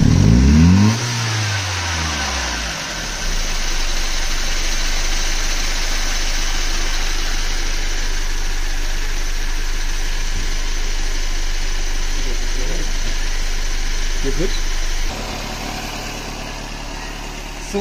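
Mercedes-Benz W124 engine fitted with a Voltarent ECU revs up sharply at the start, then settles into a steady, close idle that holds throughout with a slight change near the end.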